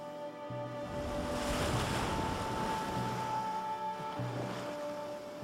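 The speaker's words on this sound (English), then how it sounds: "Rolling waves break." Ocean waves rolling and breaking along a barrier island seashore, a steady broad wash of surf with a soft low rumble, moderately distant and continuous, with no voices.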